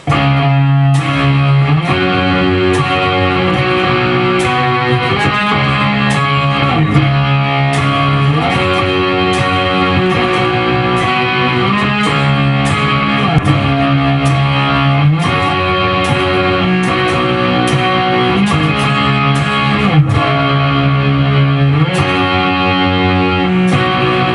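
Loud distorted electric guitar chugs through the repeating chord progression of the bridge of a song, thick and sustained, with a steady rhythmic pulse and no voices.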